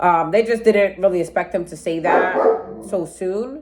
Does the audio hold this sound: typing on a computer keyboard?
no